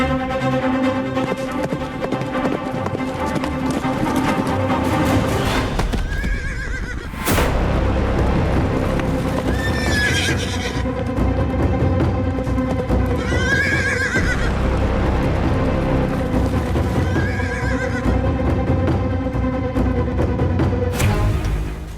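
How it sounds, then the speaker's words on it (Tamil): Horses approach along a path, neighing and whinnying repeatedly over a continuous loud clatter of hooves, with several distinct whinnies rising above the steady clip-clop. "குதிரை சத்தம் கேட்கிறது"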